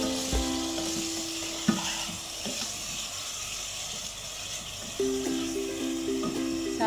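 Beef liver masala sizzles and fries steadily in a pan as tomato paste is stirred in, with a continuous hiss, a few clinks of a spoon and no talking.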